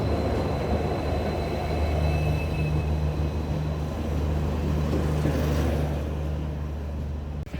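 The Sinhagad Express stands at a station platform, a steady low engine drone and rumble holding close by, with faint hiss and no talk.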